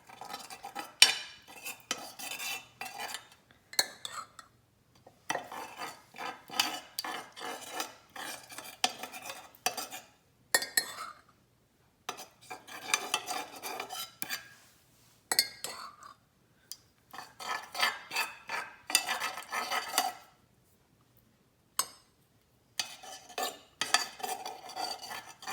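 Pizza sauce being spread across the bottom of a casserole pan, heard as repeated scraping and clinking of a utensil against the pan in bursts with short pauses, fairly quiet and close, no voices.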